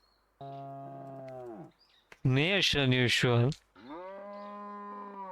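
Cartoonish cow moos from DEEEER Simulator, a goofy deer game, two long harmonic lowing calls bracketing a burst of excited speech, loud and close.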